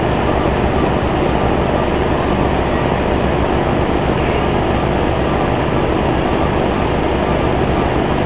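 A GOL airliner taxis off the runway toward the terminal at Paulo Afonso, Bahia, its engines giving a steady, loud, broadband roar with no let-up throughout.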